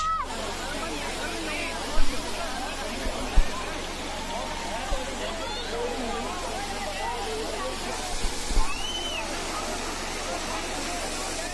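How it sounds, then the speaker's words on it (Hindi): A monsoon waterfall on a hill near Jodhpur roars steadily as a dense hiss while people play and dance beneath it, with crowd babble and occasional close thumps and splashes. "जान जोखिम में डाल के झरने के नीचे झमाझम नाच।"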